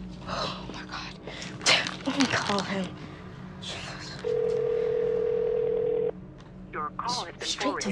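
A steady electronic phone tone holds for about two seconds as a call goes unanswered and through to voicemail, set between hushed speech before and after.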